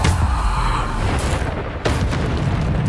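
The Bombarda spell exploding in Hogwarts Legacy, a loud, dense booming blast that rumbles throughout, with a second sharp burst near the end.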